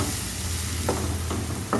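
Ripe tomatoes with salt are stirred in a frying pan for jackfruit seed curry, giving a steady close sizzle with a few soft scraping strokes of the spoon.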